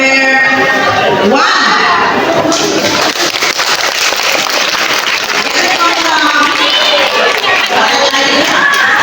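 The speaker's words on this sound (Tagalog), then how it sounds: "Sige, bigyan palakpak, no? Kung sino yung nagustuhan ninyo na magaling sumayaw." A crowd at an outdoor caravan dance show applauds and cheers for the dancers, with dense continuous clapping and shouting that is loud and close throughout.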